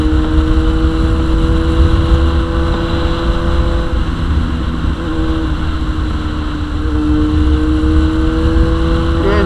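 A carburetted motorcycle engine runs steadily at idle, its carburettors synchronized but not cleaned, giving a continuous close, loud drone with strong low harmonics and no talk.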